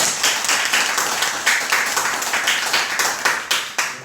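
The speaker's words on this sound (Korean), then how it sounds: "우리 서로 박수로 환영하고 한번 보내드리겠습니다." A church congregation claps together in welcome, loud and close, the many hands striking in a quick steady rhythm that holds throughout.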